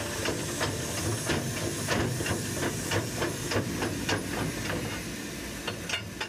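China's last steam locomotive, a small working train, hisses steadily while switching, with repeated chuffs and clanks breaking through the continuous steam at close range.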